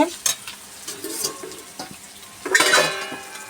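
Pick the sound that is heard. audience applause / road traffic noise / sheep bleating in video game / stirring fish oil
stirring fish oil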